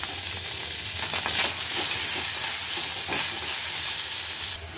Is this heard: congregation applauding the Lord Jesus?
no